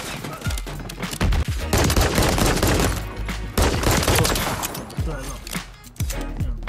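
Rapid pistol gunfire in a Call of Duty MW3 free-for-all match, loud and near, with bursts of sharp cracks in quick succession through most of the stretch and a few isolated shots toward the end.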